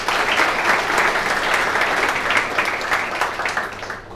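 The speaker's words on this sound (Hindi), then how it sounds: "एक बार तालियां बजाइए।" Steady audience applause at a book release ceremony for a volume on judgment writing, a dense wash of many hands clapping at even loudness for about four seconds before tapering slightly.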